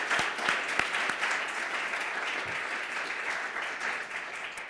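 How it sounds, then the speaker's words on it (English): An audience at a symposium on liberal education and African American history applauds steadily, a dense, even clatter of clapping that holds for several seconds with a few louder claps early on. "a round of applause for Mr. Benjamin Payne"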